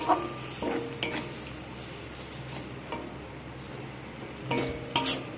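Spice masala sautéing in a pan with a little water added for jackfruit curry, a steady soft sizzle under periodic scrapes and clinks of a spoon stirring against the pan.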